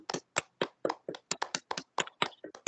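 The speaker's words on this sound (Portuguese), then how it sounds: "Nossas palmas a Jesus." A small group of people claps hands in an uneven, close-up rhythm at the end of a Catholic home prayer gathering, each sharp clap clearly separate, with no talking.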